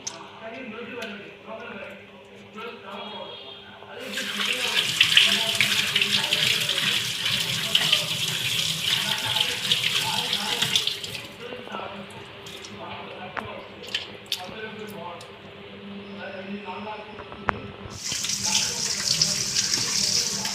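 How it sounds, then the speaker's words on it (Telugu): Kitchen tap running water while trevally fish are washed one by one, a steady splashing stream in two long stretches with handling and squishing sounds in between, someone talking over it. "నేనైతే ఒక్కొక్క ఫిష్ అయితే కడుగుతున్నాను, తర్వాత సాల్ట్ వేసి మళ్ళీ ఒకసారి క్లీన్ అనేది చేసుకుంటాను"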